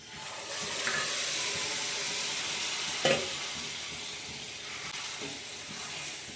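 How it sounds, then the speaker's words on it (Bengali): Boiled ridge gourd fritters poured into a kadai of sizzling spice masala give a broad, steady hiss and frying crackle with a faint clink or two, continuous and close. "এইবার যে সেদ্ধ করে রাখা ঝিঙের ফুলুরিটা এর মধ্যে আমি ঢেলে দেব।"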